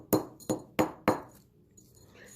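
Four light, evenly spaced taps of a rawhide hammer on a jewelry bar for a pearl bar necklace, each a sharp metallic clink with a short ring, close and clear, followed by quiet.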